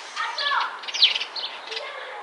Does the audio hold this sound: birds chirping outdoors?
yes